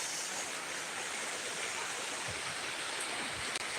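Downpour of heavy rain, a thick unbroken roar of falling water like a torrent, steady and close from start to finish.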